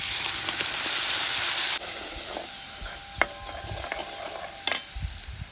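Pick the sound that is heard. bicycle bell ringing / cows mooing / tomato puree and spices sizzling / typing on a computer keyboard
tomato puree and spices sizzling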